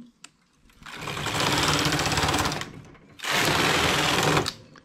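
A knitting machine works the first rows of a flared skirt with a tubular start, its carriage making two loud, steady rushing passes separated by a short pause.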